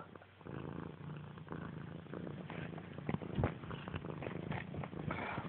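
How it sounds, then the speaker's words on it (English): A cat purrs loudly and continuously close by while wrestling and playing with a blanket, with rustling and small thumps mixed into the steady purr. "Quit attacking the blanket."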